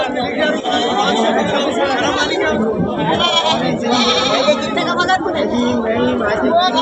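Goats bleat amid constant crowd chatter at a busy live goat market in Parbhani, with calls rising now and then through the steady noise of traders talking.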